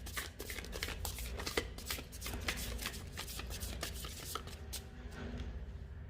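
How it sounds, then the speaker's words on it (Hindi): Tarot cards riffle and shuffle continuously by hand, a dense run of crisp papery flicks and slaps close up, with no talking. "तो चलिए हम लोग अपने लाइव शफलिंग को स्टार्ट करते हैं।"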